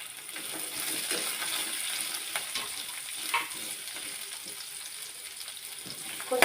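Onions and garlic sautéing in a pan, a steady soft sizzle with occasional light clinks of a spoon stirring, fairly close and without speech.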